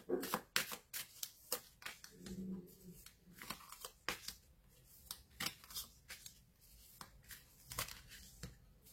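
Tarot cards being shuffled and drawn during a reading: a string of crisp, close papery snaps and riffles at an irregular rhythm, faint and intimate, with a brief low murmur of a voice in the background.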